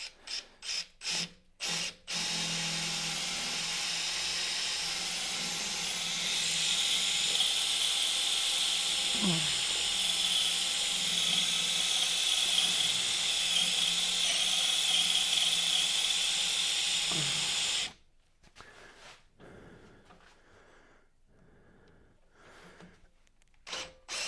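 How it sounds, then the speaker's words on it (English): A steady grinding, rasping whir of a tool cutting into wood runs for most of the clip, stopping abruptly near the end, with brief clicks and knocks before and after. "Go ahead and drill down into that."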